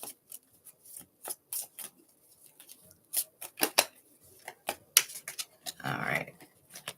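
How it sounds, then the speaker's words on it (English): Tarot cards being shuffled by hand, heard as a run of crisp, irregular riffling flicks and taps at close range, with a longer rustling burst near the end and no talking. "Let's make sure we shuffle these good."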